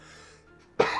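A single sharp cough bursts out near the end after quiet room tone, close and loud.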